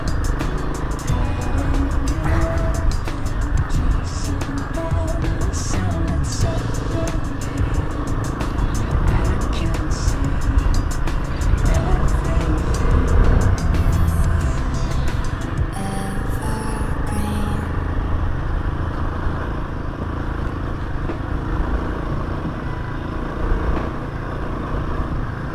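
Off-road motorcycle ridden seated over a rocky trail with loose rolling stones, engine droning loudly and steadily with rattling and clatter from the bike, the roar easing slightly toward the end, no talking.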